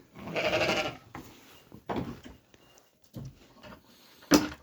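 Sheep in a farm pen on a snowy day give several loud bleats from close by, one long call, then shorter ones separated by quiet gaps, with no talk.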